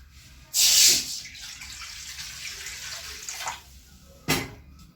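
A short burst of water pouring into a pan, followed by quieter trickling and a brief second splash near the end.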